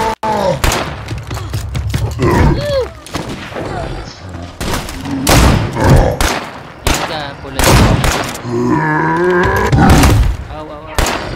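A juggernaut zombie roars in the survival game State of Decay 2 amid bursts of loud close gunfire, with people talking over the chaotic, rough growls and shots.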